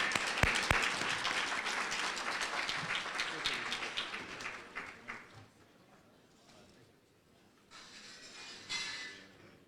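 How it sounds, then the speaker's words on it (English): Applause at a chamber of commerce gala dinner rises loudly for the introduction of a deputy county executive, then thins into scattered clapping and murmuring before a short burst returns near the end. "let's give a round of applause for Deputy County Executive Mr."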